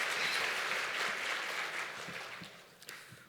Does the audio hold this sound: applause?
yes